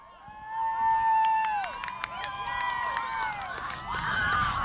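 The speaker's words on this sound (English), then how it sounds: "You can hear the kids screaming" A crowd of kids screams and cheers during a solar eclipse in Cleveland, with high excited shrieks and whoops rising and falling at a moderate distance for several seconds.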